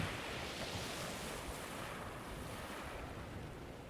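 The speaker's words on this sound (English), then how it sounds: "Other than the wind and the sea, there's not a sound." Wind and sea waves on a remote coast beside the stump of a lighthouse, a steady loud roar of surf and gusting wind with no voices, continuous throughout.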